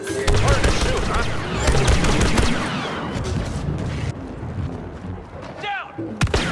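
Loud, dense gunfire and blaster shots in Star Wars Battlefront II, during a Heroes versus Villains match, form a continuous, chaotic barrage of rapid bursts with booming impacts, with brief voices mixed in.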